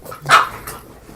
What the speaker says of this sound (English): Sorry about my dogs, they're playing.